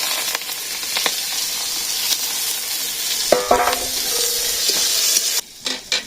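Green chilies drop into hot oil in a frying pan for a village-style fish curry, giving a steady broadband sizzle with occasional scrapes and taps of stirring, close and fairly loud, before it briefly cuts out near the end.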